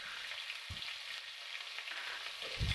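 Bay leaves, dried red chillies, whole garam masala, cumin seeds and a little onion frying in hot oil for a Bengali chicken curry, giving a steady close sizzle with a couple of soft low knocks, no talking.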